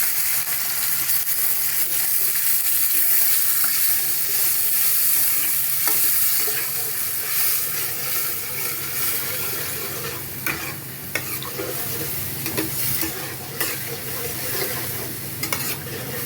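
Yogurt-based pointed gourd (potol) curry masala frying and being stirred in a pan, with a steady close sizzle and repeated scraping stir strokes throughout, no voices.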